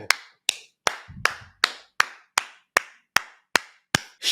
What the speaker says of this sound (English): She gets a hand clap.